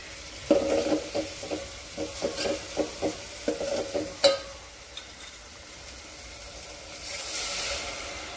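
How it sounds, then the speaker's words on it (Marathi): Red chili powder is stirred into sizzling oil tempering for a spicy moong dal, making a soft hiss under about a dozen rhythmic spoon scrapes against the pan. The scraping stops near the end and a quieter sizzle continues. "याच्यातमध्ये छान असं हे फोडणीत मिक्स करून घ्यायचं आहे"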